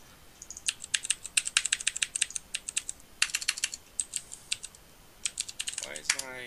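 Rapid bursts of clicking keystrokes on a computer keyboard, close and crisp, come in uneven clusters with short pauses, and a voice briefly starts near the end.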